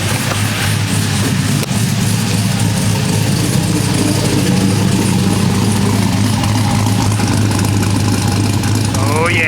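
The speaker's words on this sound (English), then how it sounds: "Walk you around to the back so you can hear it chopping from the exhaust." A car engine idles loudly up close with a lumpy, choppy exhaust note, a steady low rumble with an uneven lope running throughout while someone talks over it.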